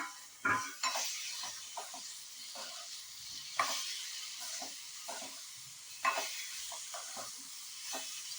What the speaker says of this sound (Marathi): गूळ विरघळला की मग हे उकडलेले रताळे त्याच्यात घालायचे आणि हलवून घ्यायचे